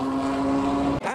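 A Smart car's small engine drones at a high steady pitch, then abruptly cuts and rises again in a quick rev, fairly loud and close.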